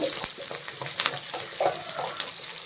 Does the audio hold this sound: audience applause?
no